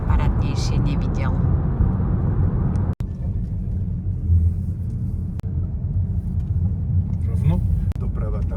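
Steady low road rumble from inside a car driving along a highway near Bratislava, loud and continuous, with a voice and adult chatter over it and a few brief sharp clicks.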